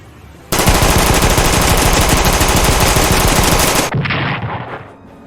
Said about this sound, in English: Both aircraft fire at each other head-on.